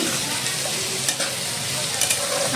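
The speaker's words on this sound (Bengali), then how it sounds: "পেঁয়াজটা একটু নাড়ো" Onions fry in a pan, giving a loud, dense, steady sizzle close by, with a couple of faint scrapes from stirring, no voices.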